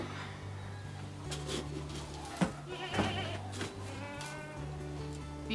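Several hungry goats bleat and holler in the background on a farm, scattered calls over a steady low hum, some closer and louder than others.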